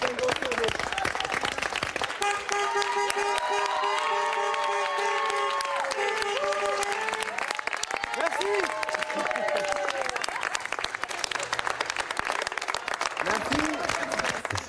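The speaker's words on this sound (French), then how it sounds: "assister aux applaudissements en soutien au personnel soignant" Evening applause in support of hospital staff, a dense, steady wash of clapping and crowd noise running throughout, with cheering voices and other sounds rising over it near and far.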